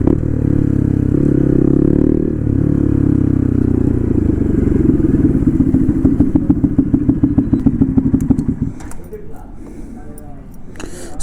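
A Bajaj NS200 motorcycle with a loose, twisted silencer runs loud and close, its engine note rising into a rapid, rattly pulsing that then fades and drops away near the end.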